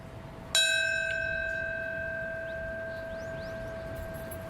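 A single memorial bell struck at the 9/11 anniversary ceremony at the World Trade Center site, one clear strike whose ringing tone decays slowly in a quiet outdoor setting.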